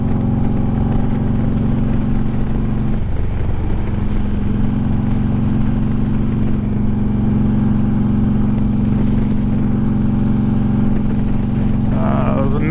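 Harley-Davidson motorcycle engine running steadily while riding, a loud continuous low rumble that stays even throughout with a brief dip around three seconds, no voices over it.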